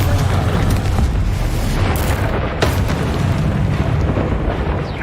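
A continuous heavy rumbling roar from the Confringo explosive spell in the video game Hogwarts Legacy, loud and sustained with no clear separate blasts.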